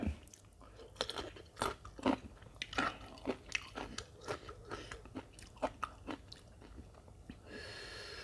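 Raw eggplant bitten and chewed up close with a series of crisp, crunchy bites and rhythmic chewing, with no talking.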